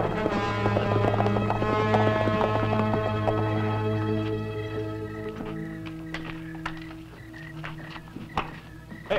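Horse hooves clip-clop in a steady running rhythm over a sustained tonal music bed, with a few sharp accents toward the end.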